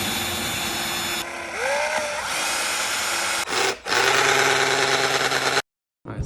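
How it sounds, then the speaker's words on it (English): A power drill bores a hole in a car body to mount an AEM air/fuel gauge in a cammed SRT8: loud, close, steady whirring with a pitch change and a short stop midway, then a sudden cut. "we got the hole drilled"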